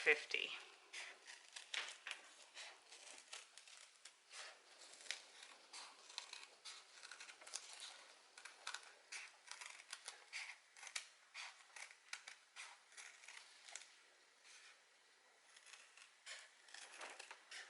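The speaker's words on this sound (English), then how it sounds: "A nice sharp pair of scissors." Faint, close snipping and crinkly cutting sounds repeat irregularly as sharp scissors cut through a thin thermal foil boot insole, with quiet rustling between cuts.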